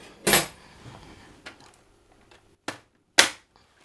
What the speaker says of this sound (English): Now I have to pierce the film over the beans.